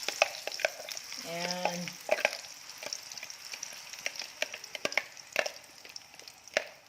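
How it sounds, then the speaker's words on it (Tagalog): Garlic and chili frying in oil in a pan, a close, steady crackling sizzle with irregular stirring scrapes and pops, and a brief word spoken over it. "nilagay ko na yung garlic na may chili at mantika"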